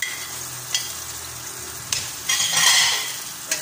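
Onion and garlic fry in a pan with a bright, hissing sizzle, stirred with a utensil that clinks and scrapes in short bursts, close and alone.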